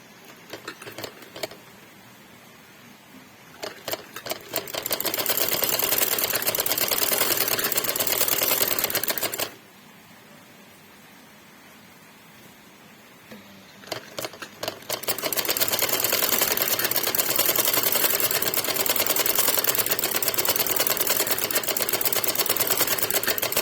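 A sewing machine stitches a doll's shalwar in two long, loud bursts of rapid whirring, separated by a quieter pause with light handling clicks, close up and without talk.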